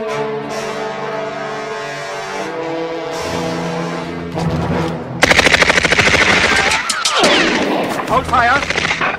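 Sustained machine-gun bursts erupt in a WW2 battle scene, rapid and loud, following several seconds of voices with a droning background, then continuing in dense repeated volleys to the end.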